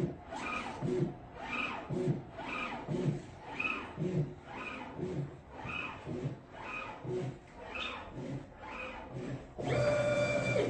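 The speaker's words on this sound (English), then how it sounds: "That's what's printing right now." A cutter plotter printing a pattern, its carriage sweeping back and forth in a steady, regular rhythm of mechanical whirring passes, close and moderately loud, before a denser, louder burst of motor noise at the end.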